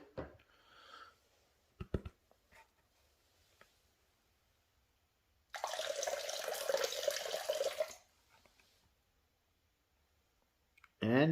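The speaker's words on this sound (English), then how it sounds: "put a little bit of water back in there, swish it around" Water swishes around a gold prospecting pan of paydirt in a burst of about two and a half seconds, loud and close with splashy wash, set between quieter handling clicks and taps.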